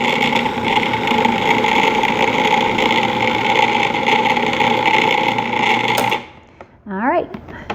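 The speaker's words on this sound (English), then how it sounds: "And the food processor is loud, I know, but this is just the easiest way to do this." A loud food processor whirls low-carb pie crust dough in a steady, dense motor whine for about six seconds, then cuts off abruptly, leaving a quieter moment with a brief voice at the end.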